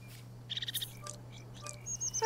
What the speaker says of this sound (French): on fait venir des oiseaux.